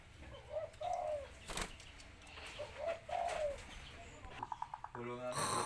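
A hybrid pigeon, a Kelantan crossed with a blorok, gives repeated low rolling coos close by, with a short burst of wing flapping near the end and background voices and chatter running underneath.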